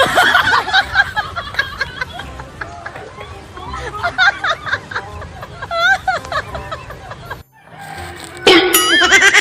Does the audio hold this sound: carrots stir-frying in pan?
no